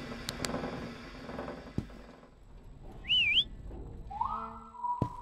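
Eerie melodic whistling echoes through a ghost ship in a horror video game, a short wavering tune standing out over dim rumbling ambience, followed by a second, lower sustained whistle tone.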